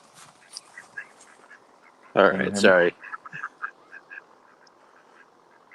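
Ducks quacking outdoors near a farm greenhouse, with faint scattered quacks across a quiet background and a brief louder burst in the middle, while a voice speaks briefly.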